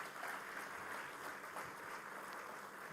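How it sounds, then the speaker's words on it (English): A football award ceremony crowd applauds, a faint, distant, continuous wash of clapping from a large audience. "I will ask you for one applause only for everyone who is here"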